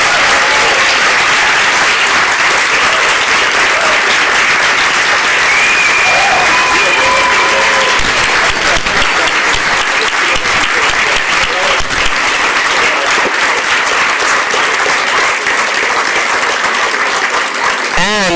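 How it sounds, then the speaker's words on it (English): A large crowd applauds panelists at a political discussion event, loud continuous clapping lasting nearly twenty seconds, with scattered cheers and voices woven through the din. "Round of applause for our panelists"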